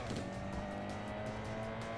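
Tuned-up car engine in the racing game Import Tuner Challenge, a steady loud drone at constant pitch with faint tire noise, running alone without any talk.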